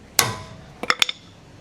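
A hammer gives a sharp metallic whack to an impact screw tool on a brake rotor screw of a 2016 Hyundai Santa Fe Sport, followed a moment later by a quick cluster of three lighter ringing taps, close and loud.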